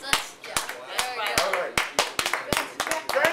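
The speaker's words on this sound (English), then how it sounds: "I clap. I applaud this man." A person clapping hands in a hair salon, a series of sharp, close, irregularly spaced claps over someone talking throughout.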